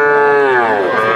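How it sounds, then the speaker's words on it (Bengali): A Sindhi breed calf lets out a single loud, close moo that falls slightly in pitch and lasts about a second. "শুনলেন সিন্ধি জাতের বাছুর"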